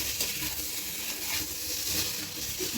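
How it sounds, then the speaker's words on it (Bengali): Fish pieces and spices are stirred in a pan over low gas, producing a continuous soft sizzle and a faint shuffling of stirring. The sound is steady and moderately quiet throughout, with no speech. "মাছের সাথে একটু মশলাটা ভালো করে মিশিয়ে নিই"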